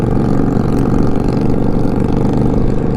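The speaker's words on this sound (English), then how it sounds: "me and my newfound motorcycle buddies here in front of me ride east on Highway 53" A steady, loud engine drone with a low rumble as motorcycles cruise at speed east on Highway 53 near Marble Hill, Georgia, continuous with no voices.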